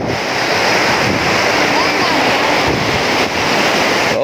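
Rushing water from a waterfall at Pyin Oo Lwin roars steadily and loudly throughout, a dense close wash of falling water mixed with some wind buffeting.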